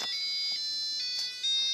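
A Five Below color-changing LED digital alarm clock sounds its first alarm tone, a steady high electronic beeping that pulses in short repeated bursts, loud and close with no talking.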